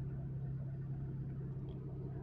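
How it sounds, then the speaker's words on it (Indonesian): The engine of a 2006 Suzuki APV blind van idles with its air conditioning switched on, a steady, fairly quiet low hum with a constant tone, heard close and alone for the whole stretch. "Jadi ini kondisi suara mesin ketika AC-nya menyala."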